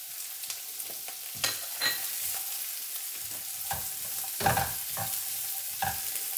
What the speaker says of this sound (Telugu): ఇప్పుడు ఆల్రెడీ మనం కట్ చేసి పెట్టుకున్న క్యారెట్ ముక్కలండి, ఇవి వేసేస్తున్నాను.